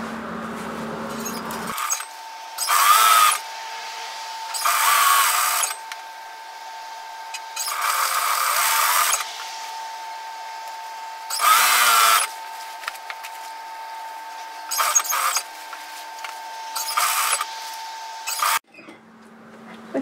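A sewing machine runs a seam along the wrist of a Briar robe, sped up, in several loud bursts of fast whirring separated by short pauses, with no talking.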